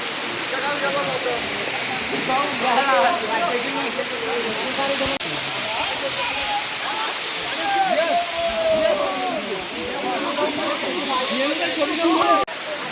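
Khoiyachora waterfall in Sitakunda, a steady rushing roar of falling water throughout, fairly loud and close, with faint voices now and then underneath.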